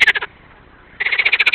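Frogs in Ukraine give loud, rapid pulsed croaking trills close by: a short burst, a brief pause, then a longer run of rhythmic calls.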